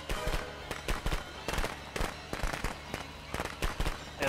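Rapid strings of firecrackers in the Friday the 13th video game crackle and pop in quick irregular bursts, loud and close, continuing throughout.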